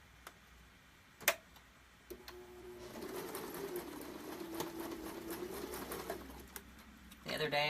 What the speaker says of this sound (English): I'm going to go to the machine and I'm going to sew a single stitch over here